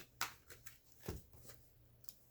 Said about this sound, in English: let's go ahead and shuffle one more time